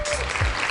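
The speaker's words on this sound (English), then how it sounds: "Hand clap to Kruti 1245." A brief burst of hand clapping for a winner announced during a crypto market livestream, less than a second of dense applause.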